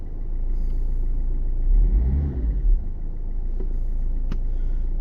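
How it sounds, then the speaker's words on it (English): A car engine idles steadily, then is revved once, climbing and falling back to a low idle rumble, close and loud, during a diagnostic scan with a Vpecker E1 WiFi tool. "Give it a rev and it goes up and down."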